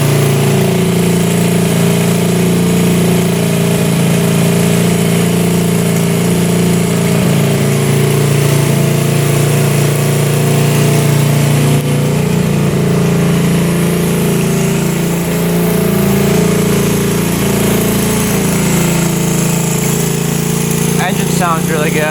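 A 1974 Honda motorcycle engine idles steadily and loudly close by, a constant mid-pitched drone that runs evenly for over twenty seconds with no revving.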